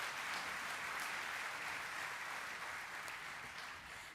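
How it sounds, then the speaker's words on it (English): Audience applause at a college commencement ceremony, a steady wash of clapping hands sustained for several seconds, moderately distant and fading slightly toward the end, with no talking. "we're gonna clap for Lori twice"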